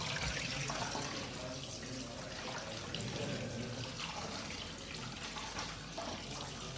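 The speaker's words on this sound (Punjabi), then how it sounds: "ਹੁਣ ਨਾ ਮੈਂ ਧੋਣ ਲੱਗੀ ਆ ਦੂਸਰਾ ਚਾਵਲ" Water runs steadily from a tap while rice is rinsed in a home kitchen in a village, a continuous splashing rush with faint sloshing, no talking.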